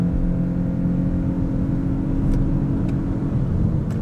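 A Lexus LBX 1.5L hybrid accelerating out of a corner, heard from inside as a steady, loud engine drone and road rumble that holds constant throughout, with a few faint ticks on top.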